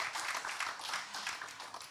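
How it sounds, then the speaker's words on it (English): An audience applauds a group of panelists at the close of a talk on overconsumption, a dense, steady wash of many hands clapping at moderate loudness throughout, with no talking over it. "please give them a huge round of applause"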